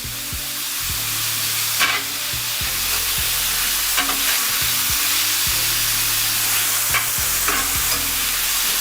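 Cheesesteak meat cooking in oil on a hot surface, a loud continuous sizzle with repeated scraping and stirring strokes and periodic bursts of spitting hiss.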